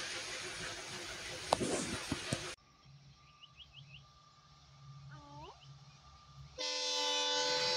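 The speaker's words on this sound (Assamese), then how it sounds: "আৰু এখন ট্ৰেইন আহিলে একদম ভয় লাগি গৈছে ইমান স্পীডত গৈছে" A fast train at a railway crossing in Bhilgaon, Assam, rushes by with loud noise at first. A quieter stretch with birdsong follows, then a strong horn-like blast sounds at the end.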